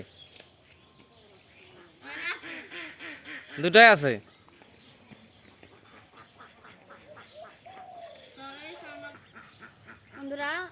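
Ducks quack near a village pond in a few short bursts, one louder honk in the middle, with people talking nearby in between.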